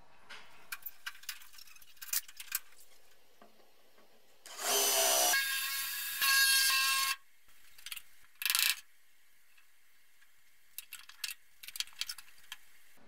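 A power drill whirs in two short bursts, then a brief third, drilling out spot welds on a BMW E30 325i, with light metallic clicks and handling noises between them.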